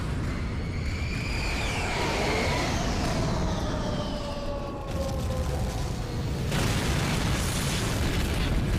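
Ordnance explosions in Halo 2, deep rumbling booms rolling over a dense, continuous battle roar, with whistling, descending tones from incoming fire, loud and sustained throughout.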